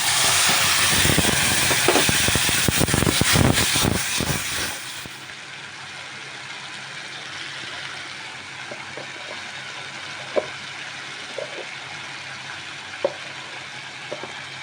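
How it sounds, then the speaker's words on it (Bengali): Onion, garlic, ginger and chili paste dropped into hot oil, a loud, dense sizzling hiss that drops after a few seconds to a quieter steady frying crackle with occasional pops. "তেলটা গরম হয়ে গেছে, এবার আমি পেঁয়াজ রসুন আদা লঙ্কা বাটাটা আমি দিয়ে দিচ্ছি।"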